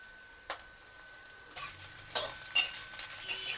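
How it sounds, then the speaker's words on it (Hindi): Chopped capsicum goes into a pan for veg chowmein and is stirred, giving faint sizzling with a few soft scraping clicks from the spoon against the pan, fairly quiet throughout. "अभी इसमें ऐड करनी है हमने शिमला मिर्च जो हमने काटी है।"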